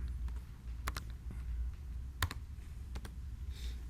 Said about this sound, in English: I can go ahead and type in the changes that I want